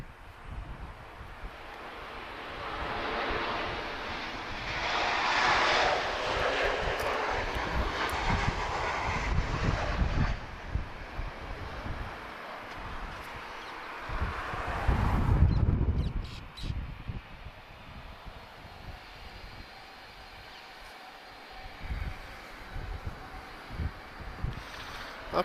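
A TAP Express airliner at Lisbon Airport rumbles past in the distance, its roar swelling and fading over wind buffeting the microphone, with a brief louder gust midway and birds calling faintly.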